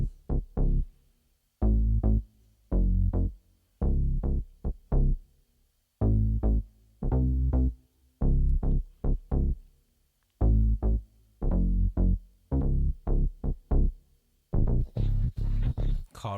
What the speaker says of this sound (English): I added my own bass to it, which is a combination from 3 different synth bass lines.